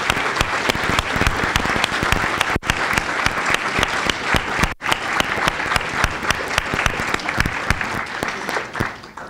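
Audience applause for award-winning students at a Berkeley College of Environmental Design event: sustained, fairly crisp clapping from a sizable crowd, steady and moderately loud with a couple of brief dropouts.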